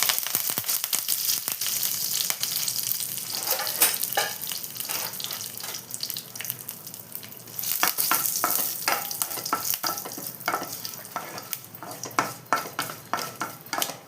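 Dried red chillies and curry leaves sputter and crackle in hot oil for tomato rasam, a loud, dense frying hiss full of rapid pops and spatters throughout, with no voices.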